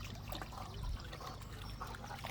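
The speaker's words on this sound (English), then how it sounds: "Dogs are just getting a quick dunk before work." Continuous splashing and sloshing of water close by as dogs take a quick dunk, a busy churning with no distinct pauses or voices.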